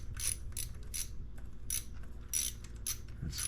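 A socket wrench ratchets in quick bursts of clicking while turning a small bolt on a Honda Grom motorcycle, close and clear with short pauses between strokes.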